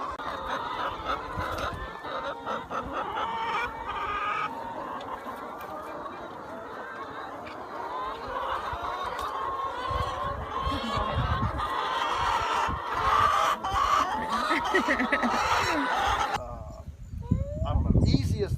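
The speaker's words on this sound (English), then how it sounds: "So is this the Wyandotte chicken that she was talking about?" Wyandotte chickens on a farm clucking and squawking in a continuous flock chatter, fairly close and moderately loud, with people talking over it and a few sharper calls and handling noises near the end.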